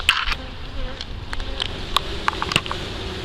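Honey bees buzz inside an open, well-established beehive of tens of thousands, a dense close drone with individual bees zipping past near the listener.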